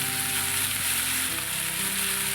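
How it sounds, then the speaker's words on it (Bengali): Mustard paste with green chillies frying in hot oil, a dense continuous sizzle held close and steady throughout, without voices. "একদম তেল ছেড়ে যাওয়ার পরে যে সর্ষে বাটাটা ওটা দিয়ে দিতে হবে"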